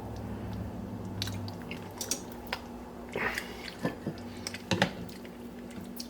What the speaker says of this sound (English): The chickpeas now squish quite easily between your fingers.